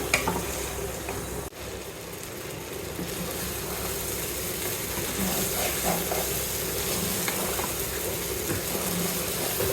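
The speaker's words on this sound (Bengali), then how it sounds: "চালটা ভাজা হয়ে গেছে" Rice frying with spices in a pot for Bengali pulao gives a steady, close sizzle and frying hiss throughout, with a soft stirring rustle and a brief dip in the noise early on.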